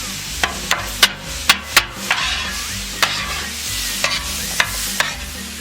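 Steak chopped and fried on a griddle for teriyaki cheesesteak subs gives a steady sizzle, broken by sharp, irregular metal spatula clacks and chops, close and fairly loud.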